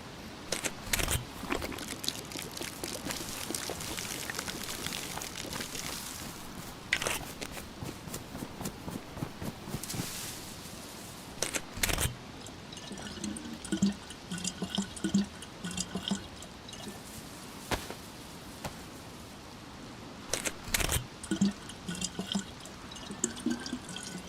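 Water in the DayZ survival game splashes and drips in bursts of sharp, close sloshing and gulping sounds, separated by quieter ambient stretches over a long run.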